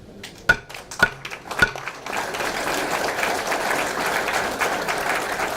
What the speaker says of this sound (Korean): 다시 한번 격려의 큰 박수를 보내주시기 바랍니다